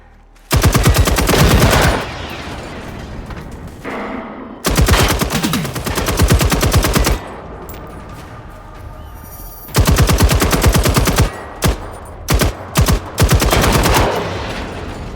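Bursts of machine gun fire in the video game Generation Zero, loud and close, arriving in several long sustained volleys separated by brief pauses, then shorter rapid bursts near the end.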